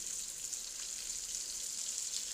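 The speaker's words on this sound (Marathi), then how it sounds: "मंद आचेवर तळायचे आहे" Semolina-coated surmai (kingfish) frying on a low flame, a steady soft hiss of sizzling oil running evenly throughout without pauses.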